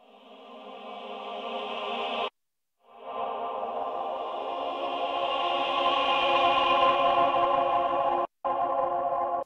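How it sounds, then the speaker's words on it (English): An electric guitar with delay and reverb plays through the Freqtube tube preamp plugin, sustaining a bright, shimmering wash of notes with two short abrupt dropouts, faint and steady with no talk. "There's a lot more content in the highs, which is typical of having it run through a preamplifier, like a tube thing"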